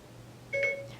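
Short two-tone electronic chime from a phone as Siri activates, a brief clean beep in a quiet room.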